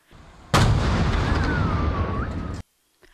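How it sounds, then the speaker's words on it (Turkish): A burning air conditioner unit explodes suddenly and loudly in Esenler, Istanbul, roaring for about two seconds before cutting off abruptly, followed by a faint thud. "Bir süre yanan klima daha sonra adeta bomba gibi patladı."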